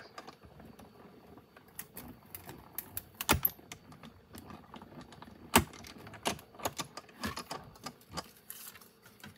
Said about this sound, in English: So I'm going to go ahead and cut that piece out.